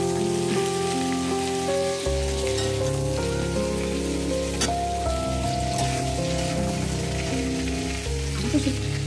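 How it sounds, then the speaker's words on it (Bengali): Cauliflower fries slowly in mustard oil over low heat, a soft, continuous sizzle heard close up, with steady tonal music running underneath throughout. "এটাকে এখন ভাজা হবে, খুব কম হিটে ভাজা হচ্ছে"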